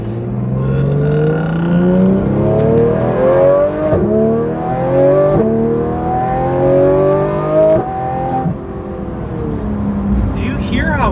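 A tuned Porsche 911 GT3 RS engine revving hard through a run of rapid gear shifts, each upshift dropping the pitch before it climbs again, loud and close with a voice speaking over it.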